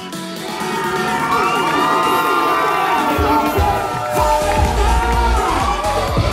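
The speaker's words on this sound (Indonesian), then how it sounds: "kita berikan tepuk tangan yang sangat banyak untuk kakak" Guests at a sweet seventeen birthday party cheer and shout loudly, a dense crowd noise with whoops and children's voices rising over steady clapping.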